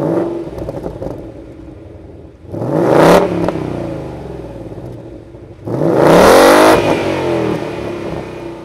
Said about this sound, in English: the exhaust gases are escaping through a bimodal exhaust with quad tips